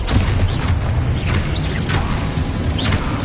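Loud, dense blasts and whooshing magical bursts from a fire-explosion spell cast in the Hogwarts Legacy video game, with repeated booming impacts over a heavy low rumble that runs throughout without a break.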